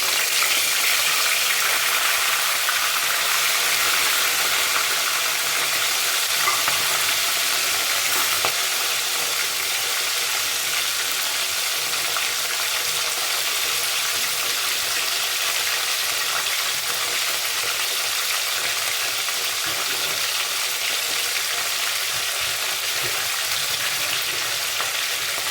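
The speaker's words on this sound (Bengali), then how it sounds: "মাথাটা ভেজে নেবো এখানে।" Snakehead (shol) fish head frying in hot oil in a kadai, a steady, loud, continuous sizzle and crackle that holds evenly throughout with no talking.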